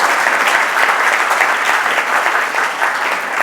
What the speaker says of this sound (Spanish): un gran aplauso para esas personas